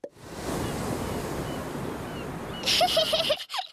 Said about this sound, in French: J'entends le bruit des vagues.